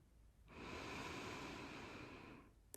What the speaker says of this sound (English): Take a deep inhale